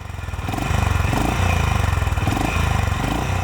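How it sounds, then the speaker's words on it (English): A Honda H'ness CB350 motorcycle's single-cylinder exhaust thumps loudly and rhythmically, a deep pulsing beat that swells briefly as the engine revs. "it's a loud, nice sounding thump, even louder than the Royal Enfield"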